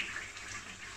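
Water poured from a vessel into a pan of Jaisalmeri black chickpea gravy, a soft steady splashing trickle lasting about a second, faint and alone.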